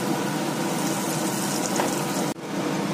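Battered chillies deep-fry in hot oil, giving a steady, dense sizzle and bubbling up close, briefly cut off near the end, with no talking.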